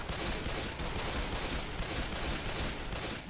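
Dense, loud gunfire from the video game Left 4 Dead 2 rattles without pause, rapid overlapping shots blurring into one continuous barrage.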